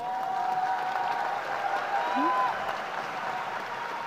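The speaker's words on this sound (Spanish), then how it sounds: "Recibámoslo con un aplauso." Forum audience applauding a 96-year-old guest speaker, a steady dense wash of clapping filling the hall with a faint tonal whistle above it.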